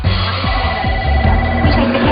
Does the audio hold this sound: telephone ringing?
yes